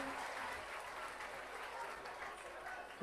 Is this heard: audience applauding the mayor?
yes